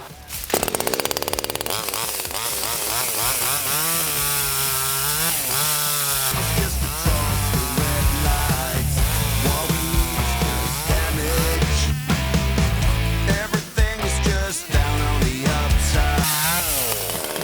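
A StartPro mini petrol chainsaw revs and buzzes continuously, its pitch rising and dipping as it bites into wood, loud and close throughout.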